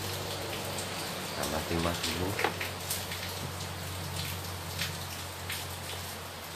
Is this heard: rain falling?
yes